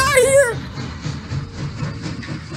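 A train ride in the Roblox video game rolls along with a steady low rumble and faint rhythmic clatter, after a brief voice at the very start.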